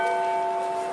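Church bells rung near the Kremlin sound a sustained, steady metallic tone with several ringing overtones, loud and close, holding without fading for the full second.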